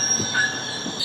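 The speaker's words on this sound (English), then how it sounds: "here is the train that I was supposed to take" Commuter train arriving at a station in San Diego, with high metallic wheel squeal ringing over a low rumble and faint clunks, close by and without talk.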